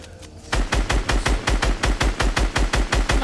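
Steady automatic gunfire in a shooter video game, a loud evenly spaced stream of about fifteen rapid shots starting after a brief lull and continuing to the end.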